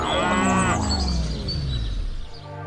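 A cow lets out a long, loud moo close by, then it trails off into a fainter, lower lowing.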